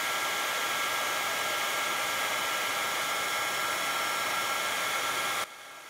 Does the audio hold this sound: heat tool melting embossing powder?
yes